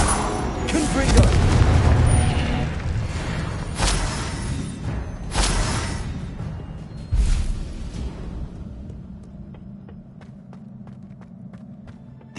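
Repeated Confringo fire spells blast in Hogwarts Legacy, a string of loud booming impacts with sharp crackling bursts, heavy combat rumble and footsteps between hits, and a voice shouting over the action.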